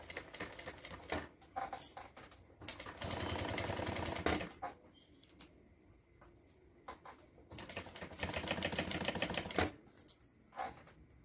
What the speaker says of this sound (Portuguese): Toda vez, antes de virar, eu tô fazendo retrocesso.